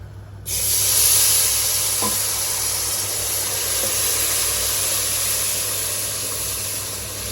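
Broth poured into a pot of browned flour sets off a loud, steady hiss and sizzle that starts abruptly and holds throughout, close by, with no talking.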